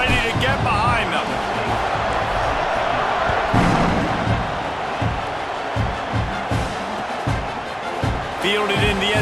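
A college football stadium crowd at a Penn State game roars as a kickoff approaches, a dense wash of cheering and noise with thumps and a commentator talking over it.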